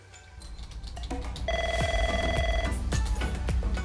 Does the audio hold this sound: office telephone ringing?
yes